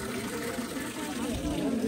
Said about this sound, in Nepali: धारा